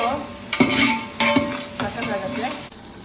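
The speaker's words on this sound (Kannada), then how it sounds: "ಈರುಳ್ಳಿ ಚೆನ್ನಾಗಿ ರೋಸ್ಟ್ ಆಗ್ಬೇಕು ಈರುಳ್ಳಿ ರೋಸ್ಟ್ ಆದಷ್ಟು" Onions roasting in a pan for chicken biryani: bursts of stirring and scraping over a soft, continuous sizzle, close and moderately loud, with no voices.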